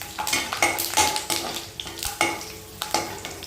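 Curry leaves crackle and spit in hot oil with sharp, irregular pops over a steady sizzle, punctuated by stirring scrapes in a pan.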